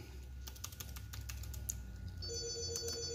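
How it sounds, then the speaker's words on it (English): Typing on a computer keyboard to enter engraving text into a laser engraver's setup, a quiet, irregular run of close clicking keystrokes with a faint steady electronic whine joining partway through; no one speaks. "right here, we're going to type what we want to write"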